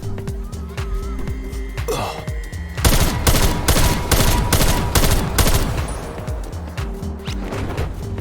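Rapid automatic gunfire in Call of Duty zombies on the Outbreak map, a dense loud burst of shots lasting several seconds amid game effects, with quieter shots and game sounds before and after.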